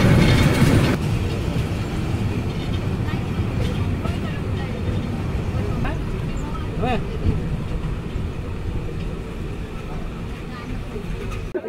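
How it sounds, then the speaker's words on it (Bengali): A train pulls into Joydebpur railway station with a loud, continuous rumble of wheels and carriages and faint rhythmic clatter, while voices murmur throughout nearby. "সকাল 11টা বাজে ট্রেন প্রবেশ করছে যাদবপুর রেলওয়ে স্টেশনে"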